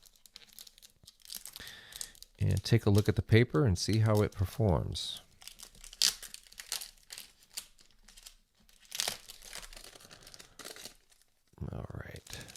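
Plastic wrapping comes off a Midori A5 notebook in close crinkles and tears, in short bursts between stretches of talk.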